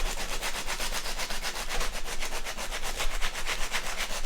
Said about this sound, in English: But this is sharp, so I want to sand it around